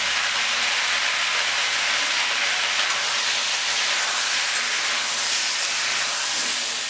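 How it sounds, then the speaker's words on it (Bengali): Vegetables sizzle in hot oil with cumin, coriander and turmeric powders, a loud, steady, close hiss of frying that carries on unbroken throughout. "মশলাটার সাথে সবজিটা ভালো করে ভেজে নিয়েছি।"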